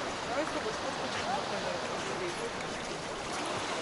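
Spring water pours over small waterfalls in a steady, close, full rushing wash that holds an even level throughout with no clear breaks.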